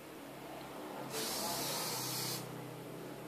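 Hairspray sprayed into separated hair while styling overnight waves, heard as a single steady hiss lasting just over a second, close and clear above faint background noise.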